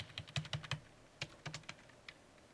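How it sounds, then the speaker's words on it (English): Computer keyboard keys clack in quick close bursts as code is typed during a programming lecture, a rapid run of strokes, a short pause, then a few more taps. "I'll type this stuff."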